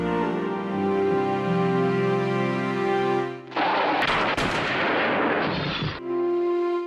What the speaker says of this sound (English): The werewolf lunges, and the police open fire, killing David instantly.